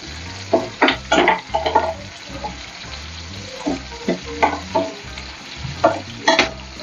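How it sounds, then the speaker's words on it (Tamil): Green chillies, ginger and garlic fry in a pan with a steady low sizzle, broken by repeated bursts of stirring and scraping from a spoon against the metal, close and fairly loud. "பச்சை மிளகாய், இஞ்சி, பூண்டு போட்டுக்கலாம். போட்டு கொஞ்சம் நல்லா ஃப்ரை பண்ணிக்கலாம்"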